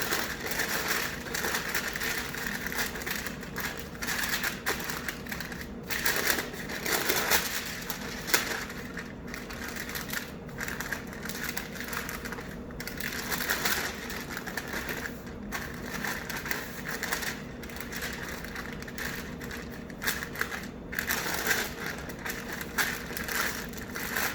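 Ramp compound butter being rolled into a cylinder inside parchment paper: continuous close crinkling and crumpling of the paper with soft rustles, steady throughout with no talking.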